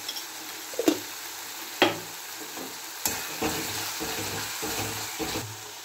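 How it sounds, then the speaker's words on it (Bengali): Spices fry in oil in a pan for a cauliflower, potato and egg curry, giving a soft, steady sizzle with a few sharp clinks and scrapes as the spoon stirs. "ভেজে যাব, ভালোভাবে কষে নেব।"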